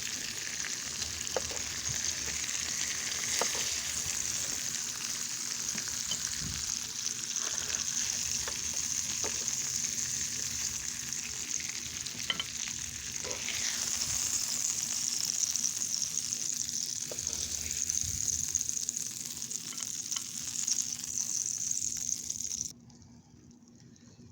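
Pork chops and sunny side up eggs sizzle on a griddle in a steady, close crackling hiss with small pops and occasional scraping, continuing for a long stretch before cutting off near the end.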